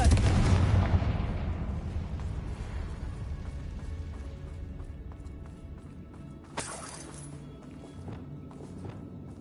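A heavy Confringo fire-spell explosion from Hogwarts Legacy booms loudly at the start and rumbles away, followed by a sharp second blast with scattered crackling debris in the quiet game ambience.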